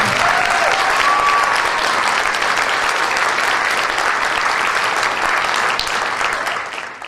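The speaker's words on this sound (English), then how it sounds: "Now a round of applause for our preteens." Dense, steady audience applause at the Miss Washington County and Miss Western Maryland pageant, a full room clapping continuously before tapering off at the very end.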